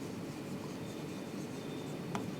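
A pen writing on paper, a soft continuous scratch that is faint and close, with one brief sharper tick near the end.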